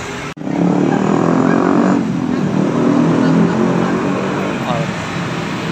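A bus rolls through a busy crossroads in Kediri, its loud diesel engine a close, sustained rumbling roar that eases slightly as it passes, with people talking over it.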